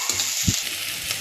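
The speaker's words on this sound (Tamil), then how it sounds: "பொடி பொடியாக நறுக்கின பெரிய வெங்காயம்" Finely chopped large onions fry in oil in a pan with mustard seeds, giving a close, steady sizzle with a few soft stirring knocks.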